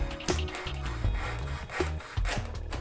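A knife trims small pieces off a cheap paper model airplane, giving soft scraping and rubbing strokes in an uneven rhythm with a few sharper ticks, close and fairly quiet with no talk.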